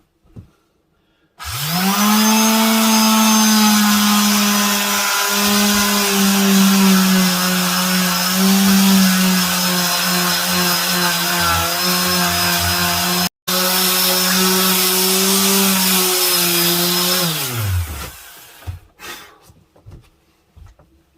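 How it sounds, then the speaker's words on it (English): Ordinary power sander fitted with aggressive P80 grit working on an alloy wheel, a loud steady whine that starts abruptly, cuts out once for an instant, then winds down and stops near the end. "This is just the ordinary sander, quite aggressive, P80."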